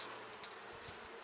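A soft, steady buzz of honeybees in a hive hums throughout, many bees droning together at low volume, with no voices.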